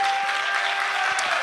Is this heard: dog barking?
no